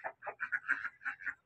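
A clever fighting rooster making a quick run of faint, rapid clucking calls, about eight short bursts in a choppy rhythm.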